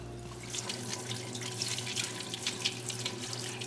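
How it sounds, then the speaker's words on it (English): Steady rush of liquid in a parts washer cleaning old bearings taken from Dayton hubs, a continuous even splashing flow under a low mechanical hum of the pump. "having a parts washer is just such a treat"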